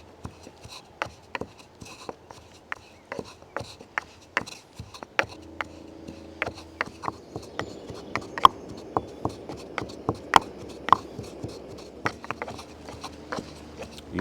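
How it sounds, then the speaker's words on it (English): A knife chops foraged yarrow on a board in quick, irregular taps, close and moderately loud, with a few sharper knocks as the cutting speeds up and continues steadily throughout. "See if we can mince these up here a little bit."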